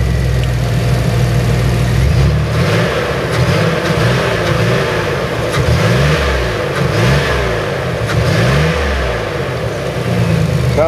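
A Chevrolet Astro van engine fitted with a new fuel pump runs close and loud, rising and falling through several repeated revs with no misfire, alone without talk.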